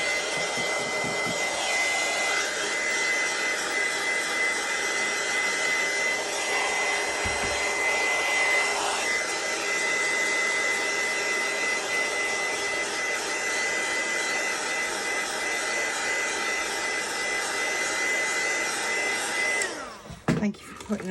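A hair dryer or heat tool blows on a thin layer of gesso spread over a vintage book page. Its close, loud, continuous whir holds steady for about twenty seconds, then cuts off.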